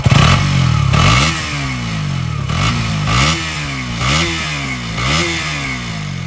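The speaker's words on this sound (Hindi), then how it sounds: "जैसे कि आपने सुना, एग्जॉस्ट नोट काफी सिमिलर है from the outgoing RC because engine completely same है" KTM RC 200 motorcycle revved repeatedly, loud and close, with about six sharp throttle blips rising and falling in pitch over a rough exhaust note.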